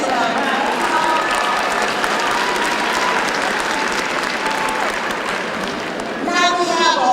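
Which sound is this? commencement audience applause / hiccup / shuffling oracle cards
commencement audience applause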